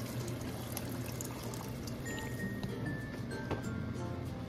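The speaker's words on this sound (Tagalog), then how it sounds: "Buhusan pa po natin siya ng mga 6 cups na water." About six cups of water pour steadily into a cooking pot of beef pares, a soft continuous splashing and trickling heard alone and fairly quiet.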